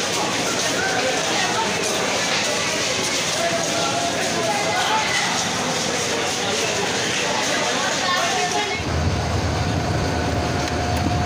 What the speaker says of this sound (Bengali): মেলেন্দাহ বাজার রেল স্টেশন থেকে 3টা বেজে 40 মিনিটে ছেড়ে গেল তিস্তা এক্সপ্রেস